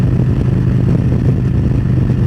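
A motorcycle engine drones steadily at highway speed around 85 in sixth gear, loud and close with wind noise mixed in.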